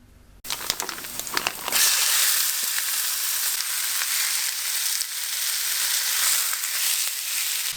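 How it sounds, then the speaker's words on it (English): After a brief clatter, a loud, crackling sizzle of turkey dropped into a pan of hot oil bursts out and keeps spitting steadily. "It's frying so loud that I'm actually pretty scared of the oil"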